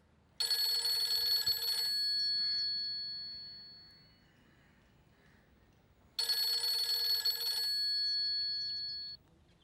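A telephone rings in two bright electronic bursts separated by a few seconds of near silence, each ring trailing off unanswered, clear and close with no talking.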